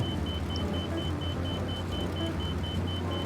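A Pitts Special aerobatic biplane's engine drones steadily and loudly from inside the cockpit as the throttle is advanced, a continuous rumbling roar with a constant tone and no voices.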